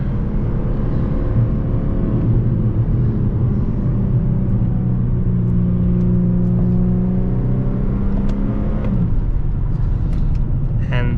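An Infiniti G35 engine dropping to third gear with paddle shifters, the steady cabin drone shifting pitch as revs change, loud and close throughout, with someone talking over it.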